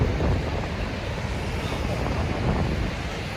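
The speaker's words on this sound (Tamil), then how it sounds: "காற்று எல்லாம் பயங்கரமாக அடித்தாலுமே" Strong wind buffeting the microphone at Niagara Falls, a dense, steady roar with low rumbling gusts that mask everything else, loud and continuous with no clear talk.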